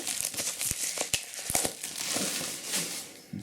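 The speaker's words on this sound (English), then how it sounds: "So just unwrap this." Plastic shrink wrap crinkles and tears off a Warhammer 40K Gathering Storm: Fall of Cadia codex, close and continuous, with sharp crackling snaps throughout.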